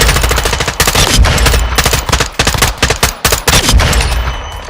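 Rapid automatic gunfire rattles through a firing range in Call of Duty Warzone, loud dense bursts with brief pauses between strings of shots, close and continuous over the whole stretch.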